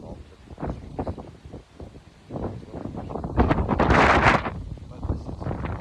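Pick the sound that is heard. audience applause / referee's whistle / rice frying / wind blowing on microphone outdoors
wind blowing on microphone outdoors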